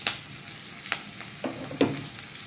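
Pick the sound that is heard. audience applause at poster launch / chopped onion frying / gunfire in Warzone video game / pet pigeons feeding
chopped onion frying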